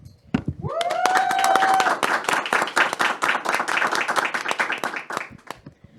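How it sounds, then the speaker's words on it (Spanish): Applause from a studio audience at a Spanish-language evening program, a dense burst of clapping that swells quickly and keeps going at full strength, with a short whistle near the start. "Un aplauso, por favor."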